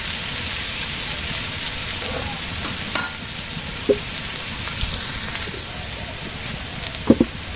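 Turmeric and chili powder frying in a pan on a village kitchen fire, a continuous hiss and sizzle with a few scattered clinks and scrapes of stirring.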